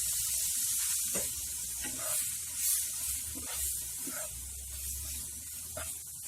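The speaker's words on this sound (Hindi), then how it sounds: "आखिर में हम इसमें थोड़ा सा नींबू का जूस डाल देते हैं, ज्यादा नहीं, बस थोड़ा सा डालिए।" Green chillies fry in a hot pan as a little lemon juice goes in, giving a steady, soft, continuous sizzling hiss with faint crackles throughout and no voices.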